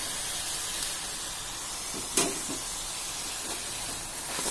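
Boiled genjer greens tipped into a hot pan for stir-fry, setting off a steady steam-like hiss with a sharp splash of sizzle midway, fairly close and without talk.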